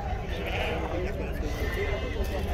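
Goats and sheep bleat amid the constant din of an outdoor livestock fair for sheep, goats and pigs in Cachoeirinha, Pernambuco, Brazil, with nearby people talking over a steady crowd murmur.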